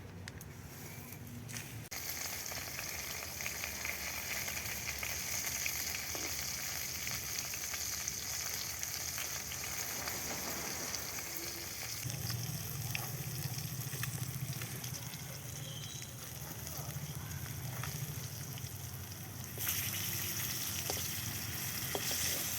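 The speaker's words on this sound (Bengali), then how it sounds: "মাছ ভাজা রেডি হয়ে গেছে আমি তুলে নিচ্ছি" A soft, continuous sizzle of fish frying in oil, steady throughout with a faint background hum.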